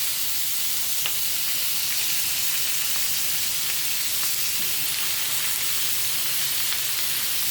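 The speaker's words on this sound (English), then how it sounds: "Can you hear that sizzle?" Steady, loud sizzling hiss of pork searing in a hot pan, continuous throughout with faint crackles and pops.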